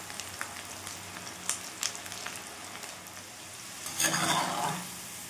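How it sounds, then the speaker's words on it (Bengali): Chopped okra, coated in gram flour, fries in hot oil with a steady soft sizzle and a few light stirring clicks, and a louder burst of bubbling near the end. "এইভাবে বাকি কুচনো ভেন্ডিগুলোও ভেজে নেব, এই একই তেলে একইভাবে।"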